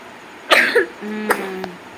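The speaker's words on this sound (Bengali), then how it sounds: "ব্যাস কাশি শুরু দেখেছো" A short burst of coughing, two quick coughs followed by a throat-clearing cough, close and fairly loud against a quiet background.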